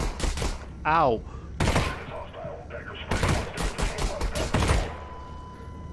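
Enemy burst gunfire in Half-Life: Alyx, loud sharp volleys of rapid shots in several clusters across the clip, with a brief pained exclamation from a player among them.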